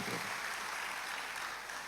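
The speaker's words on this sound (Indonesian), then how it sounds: "Sekali lagi kita kasih tepuk tangannya boleh yang paling meriah buat Tuhan." A church congregation claps in praise to God, a steady, fairly faint patter of hands with no voices over it, lasting under two seconds.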